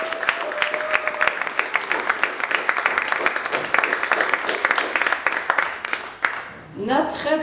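Lively audience applause for a performer at a musical project presentation, dense hand claps at close range fading out near the end as a voice begins speaking.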